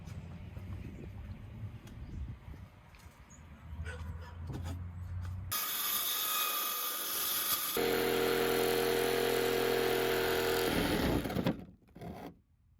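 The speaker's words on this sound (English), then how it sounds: "now it's time to cut out the hole for the window on the front cab over" A power saw cuts a window opening through the front cab-over wall of an old, water-damaged truck camper, a loud, steady buzzing whine that runs for several seconds after some handling noise, then cuts out.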